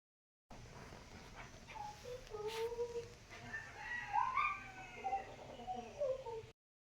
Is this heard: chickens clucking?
yes